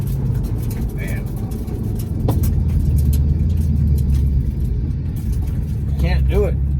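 A car launching hard off the line on drag radials, tires spinning as a loud, steady engine roar and tire rumble fill the whole stretch without easing.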